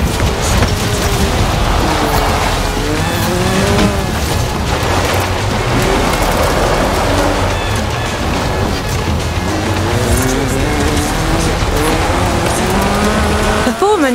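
A rear-wheel-drive hatchback with a 2.2-litre Lotus slant four-cylinder engine races in the rain in Forza Horizon 4. Its engine revs rise and fall continuously and loudly over steady spray and road roar, with occasional tyre squeal.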